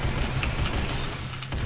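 Rapid shots from a new gun in Roblox Arsenal, a steady close barrage of game gunfire with a short dip near the end, no talking.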